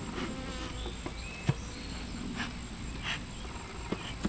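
Honeybees buzzing around a hive being smoked outdoors, a faint steady insect hum with scattered soft knocks and clicks, no talking.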